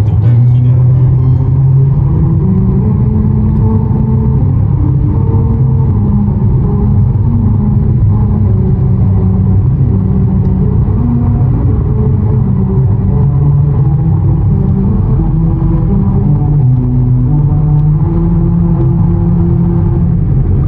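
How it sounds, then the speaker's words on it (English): Car tires rolling over the grooved melody road near Kusatsu, Japan, giving a steady low rumble with a tonal hum that shifts pitch in steps like a tune, continuous and close for about twenty seconds. "like the asphalt in certain ways that actually plays a melody, and it's called a melody line"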